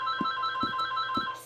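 A phone rings during Minecraft server play with a steady tonal trill, moderately loud and close, while soft low thumps pulse beneath it about three times.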